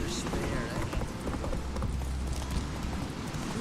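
Hooves of a horse clip-clop in The Witcher 3 in a steady, continuous rhythm under a dense wash of game ambience and faint voice-like sounds.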